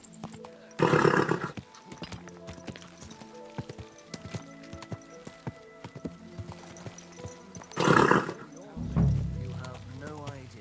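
In the video game Kingdom Come: Deliverance 2, hooves clop steadily underfoot as a horse snorts loudly twice, amid ambient game music and a voice speaking near the end.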